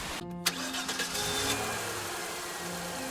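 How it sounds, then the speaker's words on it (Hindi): A car engine cranks and starts as a sound effect in a Hindi horror story, then settles into a low, steady idle with a light rev, heard faintly and alone. "विजय ने गाड़ी धीमी कर दी"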